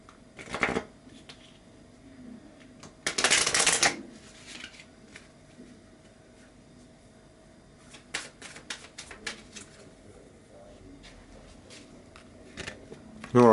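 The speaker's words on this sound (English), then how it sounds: "now let me shuffle the Lenormand cards" Lenormand cards riffled and shuffled by hand in several loud bursts, separated by quieter pauses with faint handling, close to the microphone and without talk.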